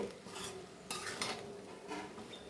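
Chicken fried rice being stirred in a pan, with repeated scraping and clinking of a utensil against the metal and a faint sizzle underneath, fairly quiet and close.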